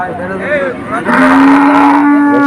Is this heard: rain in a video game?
no